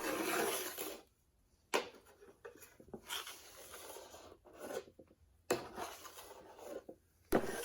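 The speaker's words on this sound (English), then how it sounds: "I then take my metal scraper, which has a finer edge, and scrape the rest of the board entirely" A metal scraper with a fine edge drags across a waxed snowboard base in several rasping strokes separated by short pauses, close and fairly quiet.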